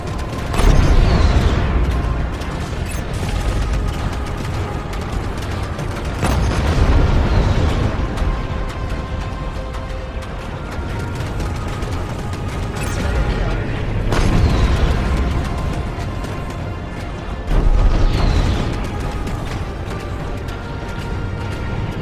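Missiles explode in the space combat game Strike Suit Zero, with heavy booms hitting four times over a continuous roaring, rumbling battle bed that never drops to silence.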